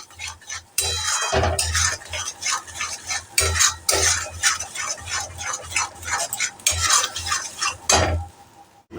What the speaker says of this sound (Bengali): এবার সুন্দর করে আবার নাড়াচাড়া করতে থাকবো ফ্লেমটাকে হাই করে দিয়ে নাড়াচাড়া করবেন